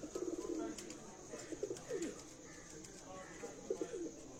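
Soft coos from rare-breed pigeons in various colors repeat at a moderate distance, mixed with faint background chatter and occasional clicks.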